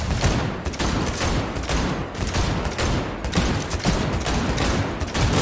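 Enemies shooting in Cyberpunk 2077, dense rapid gunfire in continuous overlapping bursts, loud and close throughout.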